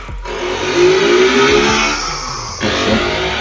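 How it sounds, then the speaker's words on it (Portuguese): Motorcycles pass loudly on a street with their exhaust popping and the engines roaring. The roar rises and falls as they go by close, and there is no talking. "Os caras passam com essas motos estourando escapamento."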